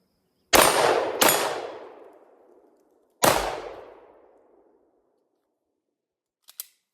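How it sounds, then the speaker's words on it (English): A Shadow Systems MR920 9mm pistol fires three loud, close shots outdoors: two in quick succession, then a third after a pause. Each crack rings out into a long fading echo, and a few faint clicks follow at the end. "Up next, we're gonna shoot this Shadow System right here. Shoots a 9 mil."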